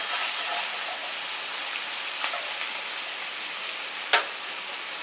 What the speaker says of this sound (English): I lowered the heat a little bit too because it's really sizzling